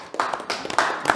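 Applause from an audience at a board meeting: a short burst of dense hand claps, moderately loud and close, with no talking over it.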